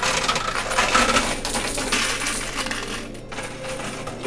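Quarters and tokens clatter continuously in a high limit coin pusher arcade machine, a loud, dense metallic jangle of many coins sliding and dropping close up, with no speech.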